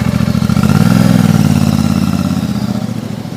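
A Royal Enfield Classic 650 motorcycle passes by, its loud throaty engine note swelling near the start and then slowly fading as it moves away.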